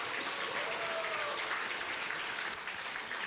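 A large congregation applauds during a Korean Sunday church service after newly named elders are introduced, a dense, even roar of clapping that holds steady, with one sharp louder clap standing out midway.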